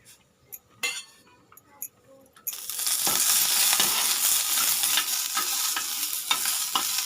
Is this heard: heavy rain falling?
no